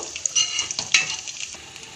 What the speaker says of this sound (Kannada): ಈಗ ಎಣ್ಣೆ ಕಾದಿದ್ದೀಗ ಒಂದೊಂದಾಗೆ ಹಾಕ್ಕೊಳ್ಳೋಣ